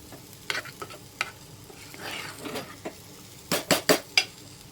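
A spoon works through cooked cowpeas and pumpkin for Kerala olan in a pot, lightly mashing them with scattered scrapes, soft thuds and a burst of sharp metallic clinks toward the end, heard close with no voices.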